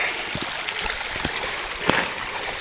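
Small woodland brook on a river hike, water rushing and burbling steadily over stones, close and continuous, with a few soft splashes and one brief sharp knock.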